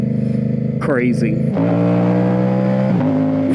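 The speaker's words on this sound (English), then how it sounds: "so I'm gonna downshift it. And it just gurgles and pops like" A tuned motorcycle with a quick shifter rumbles loudly up close, its exhaust note stepping down in pitch on downshifts while someone speaks briefly over it.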